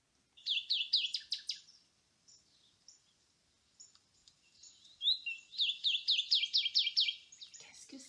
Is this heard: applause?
no